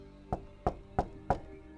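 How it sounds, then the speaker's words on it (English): Four sharp knocks on a window at night, evenly spaced about a third of a second apart, close and fairly loud against a quiet room. "He knocked again, even louder than he had the night before."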